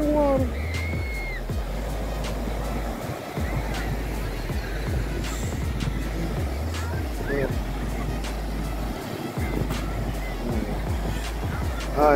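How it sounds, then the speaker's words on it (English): Big ocean waves wash in at the beach as a steady low rumble and hiss, heard under someone talking, with wind noise throughout. "Big waves."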